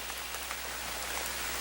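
Heavy rain pours down steadily, a dense, unbroken patter of drops striking surfaces, loud and close, with no voices.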